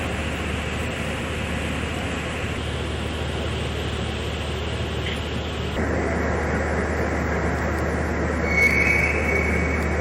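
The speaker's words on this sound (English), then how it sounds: "Those floating bollards are crying out for lubrication." Floating bollards squealing in a canal lock as it fills from a side pond on the Rhine–Danube canal in Bavaria: a steady, loud grinding rumble with a thin high squeal rising near the end, no voices.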